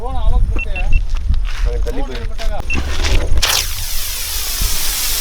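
Voices chatter, then a loud, sustained hissing whoosh as a spinning drone-type firecracker shoots upward during Diwali fireworks testing, its pitch sweeping as it climbs.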